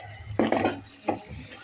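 Spice paste for chicken haleem is stirred in a pot, making two short, close scraping strokes over a soft sizzle.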